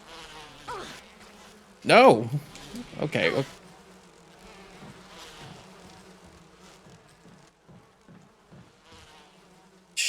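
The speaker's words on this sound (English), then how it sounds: "there was a wasp on the other side, or there was a hornet's nest on the other side" Wasps buzz around a hornet's nest in a Resident Evil video game, a thin insect drone under loud sudden bursts, with a short spoken exclamation partway through.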